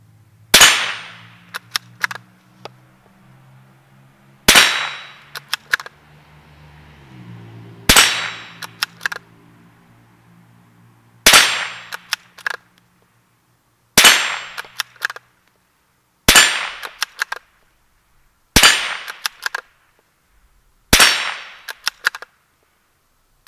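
A Savage MKII F .22 bolt-action rifle fires single shots with sharp, loud cracks spaced a few seconds apart. Quieter clicks and clatter of the bolt cycling fall between them, with no talk.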